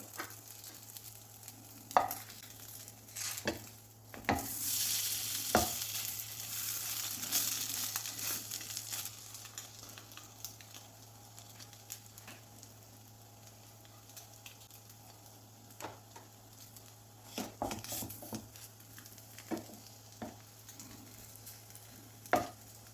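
Bread toast fries in a pan toward golden brown with a faint, low sizzle, broken by scattered soft clicks and scrapes of handling, and no voices.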